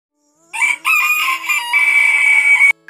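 Village chicken rooster crowing up close, a loud drawn-out call of about two seconds, with a short clucking lead-in and no talk.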